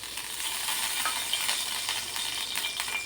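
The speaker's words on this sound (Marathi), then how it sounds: "आता इकडे या कढईमध्ये बघा" Cooking oil heating in a kadai, giving off a steady, bright sizzling hiss with small crackles throughout.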